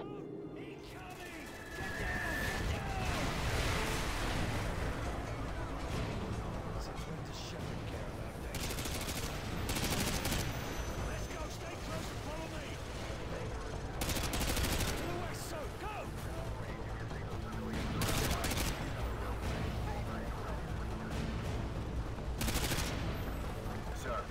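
Artillery fire mission in Call of Duty MW2, a dense barrage of repeated explosions and gunfire rolling continuously with sharp loud bursts, mixed with battlefield chatter.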